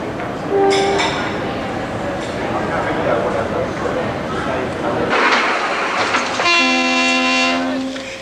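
A train on the railway line from Cairns to Kuranda in tropical Australia rumbles along, sounding its horn twice in long tonal blasts over track noise, with a voice talking over it.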